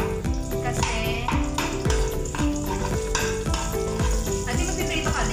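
Garlic frying in cooking oil while preparing ginataang kamansi, giving a loud, steady sizzle that runs through the whole moment with no break.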